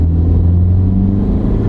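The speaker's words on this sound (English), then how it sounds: "Here we go. Full acceleration." Car with a CVT under full-throttle acceleration, a loud, steady engine drone with a constant low hum that holds pitch rather than shifting through gears, close and alone for under two seconds.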